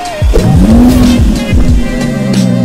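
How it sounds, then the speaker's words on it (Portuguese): Volkswagen Nivus 200 TSI 2022-2023 turbo compact crossover pulling away in town: a loud, close engine note climbing steadily in pitch through its revs, with some tyre noise, and no one talking. "vamos então dar a nossa volta aqui no Nivus"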